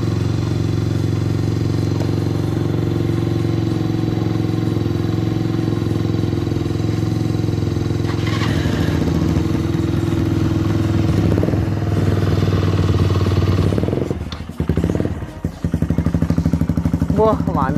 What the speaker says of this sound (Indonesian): knalpot motornya ini bunyinya kayak apa gitu ya bos ya